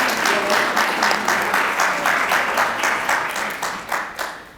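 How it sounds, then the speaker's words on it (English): Audience applause for a business panel on African enterprise, a steady wash of many hands clapping close up, holding throughout and easing slightly toward the end. "A round of applause for them, ladies and gentlemen."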